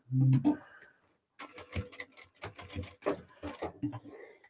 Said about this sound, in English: I'm putting in a couple of stitches at the top of each of these seams.